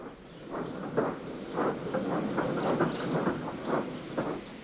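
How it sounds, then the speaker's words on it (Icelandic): A small blue tank engine steams along the rails hauling a breakdown train, with a steady clickety-clack of wheels over joints and a soft hiss, moderately loud and continuous. "Tommi kom með neyðarlestina upp að þeim."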